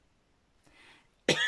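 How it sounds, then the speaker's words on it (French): A woman who is coming down with a cold gives a soft throat-clearing sound, then one sharp, close cough right after. "Je vais tousser plusieurs fois."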